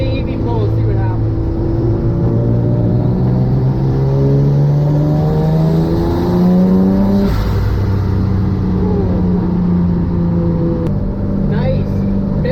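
The SUICIDEMX3, a custom vehicle running only its front engine, accelerates hard through the gears, its engine note rising steadily for several seconds, then shifting and climbing again, loud and close with no talking.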